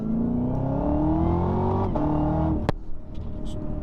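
A 650-horsepower car engine revs up and climbs steadily in pitch from inside the cabin, then drops off sharply with a brief knock, leaving a lower idling rumble.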